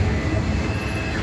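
A freight train rolls through Abbeville with a steady, close rumble of cars and wheels and a brief high squeal near the end.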